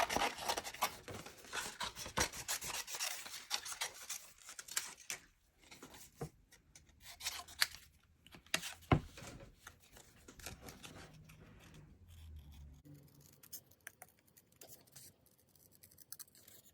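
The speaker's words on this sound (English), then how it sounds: "And I'll just cut these both out." Scissors snip through cardstock pieces for a stamped cactus greeting card, a run of close crisp cuts and paper rustles that thin into sparser handling sounds.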